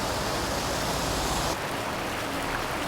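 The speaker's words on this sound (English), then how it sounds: "it sounds like the water's rushing pretty good" Rushing water of Suicide Creek, far below a highway, makes a dense, steady broadband roar throughout, with a slight shift in tone partway through and no voices.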